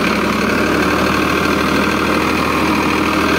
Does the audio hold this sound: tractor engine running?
yes